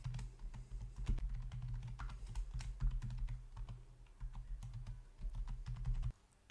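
Rapid, irregular clicks of a computer keyboard as code is typed, fairly close and steady over a low background hum, with no talking.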